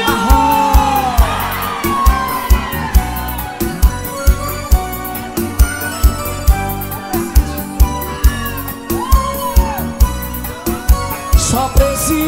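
An audience at a live sofrência music show whoops and cheers over loud music with a strong beat, shrill yells rising repeatedly between the rhythmic pulses of the band.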